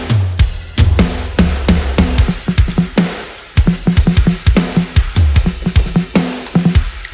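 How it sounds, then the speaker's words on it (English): Aggressive rock drums from the GGD One Kid Wonder kit in a loud, dense mix, with punchy kick and snare hits driving a steady fast beat under washing cymbals, briefly dropping out before the pattern resumes. "The drums sound like this."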